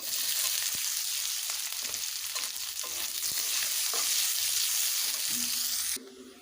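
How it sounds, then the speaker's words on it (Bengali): Sliced onions frying in oil after a whole-cumin tempering, cooked until reddish-brown, make a steady, close sizzling hiss with scattered stirring scrapes and clicks, ending abruptly in a quieter tail. "পেঁয়াজগুলোকে আমি খুব ভালোভাবে ভেজে নিয়েছি লাল লাল করে"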